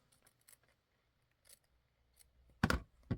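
Scissors snip through a junk journal page in a quiet room, faint light cuts early on, then one loud, close crunching cut near the end.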